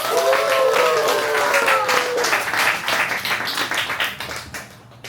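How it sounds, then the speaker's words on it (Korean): Applause at a club president's inauguration ceremony in Pohang, with a crowd clapping steadily for about five seconds. Music plays faintly beneath it, and the clapping gradually thins out toward the end. "큰 박수 한번 부탁드립니다."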